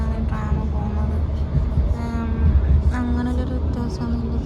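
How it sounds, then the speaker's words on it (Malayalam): A tram runs along a street shared with cars in Bremen, Germany, heard from inside as a steady low rumble with rolling wheel noise and faint squeals, while a voice talks over it. "അതായത് കാറുകളും വണ്ടികളൊക്കെ പോകുന്ന റോഡിലൂടെയാണ് ട്രാം പോകുന്നത്"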